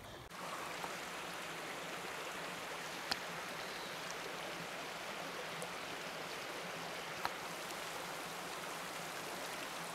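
A creek flows through a desert oasis in the Great Basin, giving a steady, unbroken rushing wash of water with a couple of faint sharp clicks and no talking.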